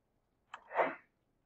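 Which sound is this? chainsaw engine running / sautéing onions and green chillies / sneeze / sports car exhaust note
sneeze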